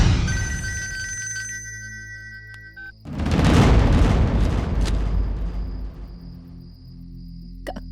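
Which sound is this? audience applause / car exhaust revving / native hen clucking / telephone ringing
telephone ringing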